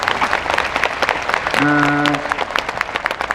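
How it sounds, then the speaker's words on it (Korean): A crowd claps in a busy hall at a Korean parliamentary audit hearing, a dense burst of applause under a brief voice. "취재진들에게도 여러분 박수 부탁드리겠습니다"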